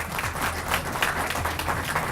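Studio audience applauding quiz bowl teams, a close, full burst of sustained clapping from many hands throughout, with no voices over it.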